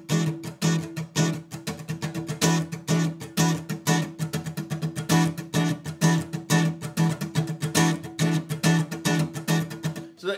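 An acoustic guitar is strummed in steady triplets, eighteen strums to the bar, with a quick, even and unbroken rhythm, played close and clear with no voice.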